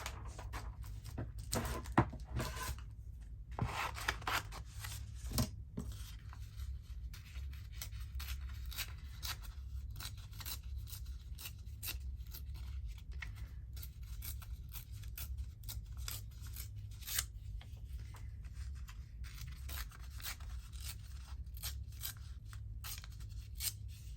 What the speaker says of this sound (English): I'll just actually cut that. Where's my scissors?